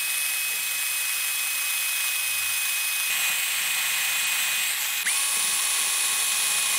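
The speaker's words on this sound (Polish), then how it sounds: "Teraz delikatnie dociskamy tą wewnętrzną stronę naszego plastiku i wiercimy dalej." A small high-pitched drill whines steadily up close, boring through a VW Golf plastic interior light housing, its pitch shifting slightly a couple of times, with no voices.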